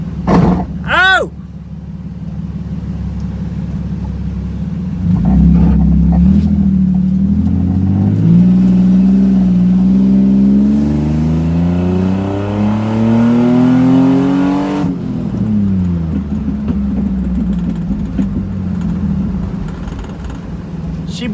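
An Infiniti G35, lowered so it scrapes the road, revs hard and accelerates, its engine pitch climbing steadily through a long pull before dropping off, loud and close with a sharp blip at the start.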